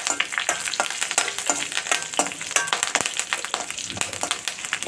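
Curry leaves splutter and crackle in hot oil during tempering for a potato and appalam kootu, a dense continuous sizzle with sharp pops throughout, loud and close.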